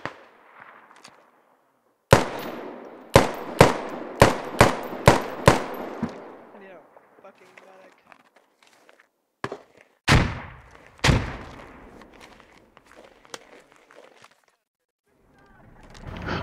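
Gunfire in a first-person shooter: a rapid burst of about six sharp, loud shots, then scattered single cracks and a few more heavy reports spaced over several seconds, with quiet stretches and faint voices between them.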